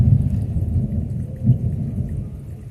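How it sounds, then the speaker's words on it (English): Thunder rumbles low and heavy through a storm, with steady rain hissing underneath and one louder swell of rolling thunder partway through; no voices. "There's the thunder."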